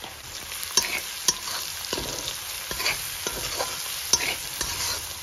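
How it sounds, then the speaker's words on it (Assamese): Onion, carrot, garlic, ginger and green chili sizzle steadily in a hot pan while a spoon scrapes and stirs, with sharp clicks of utensil against metal at irregular moments over a constant frying hiss. "এতিয়া অকণমান টাইম ভালকৈ ভাজি লওঁ"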